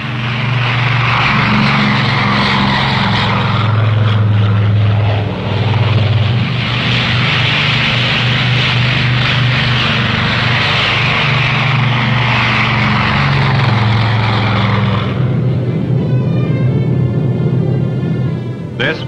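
Propeller transport aircraft, Air Force C-54s and C-47s readied for flights to the Korean battle area, give a loud, steady multi-engine drone that holds nearly unchanged for about fifteen seconds and then thins out toward the end.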